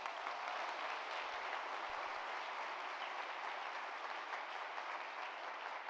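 An audience at a university's State of the University address gives a big round of applause, a steady, even wash of distant clapping that holds at a constant level throughout.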